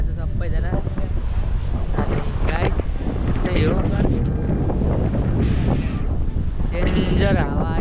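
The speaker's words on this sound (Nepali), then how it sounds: "डेन्जर हावा आइरहेछ" Strong wind gusts at Floreat Beach buffet the microphone in a constant loud rumble, with people talking over it.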